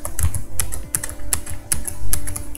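Keys on a computer keyboard are pressed in a loose, uneven rhythm of sharp clicks, close and clear, including a Ctrl Z undo shortcut, with no speech.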